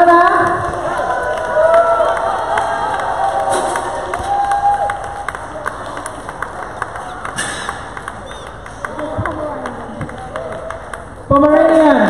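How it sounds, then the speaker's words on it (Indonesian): An audience at the Bali Dog Show 2019 cheers and claps for the Best in Show winner, a steady crowd roar that dips midway and swells again at the end, with voices mixed in. "Tepuk tangannya mana?"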